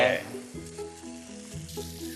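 Food fries in chicken-skin fat in a pan, a close steady sizzle with occasional stirring, heard alone at moderate volume.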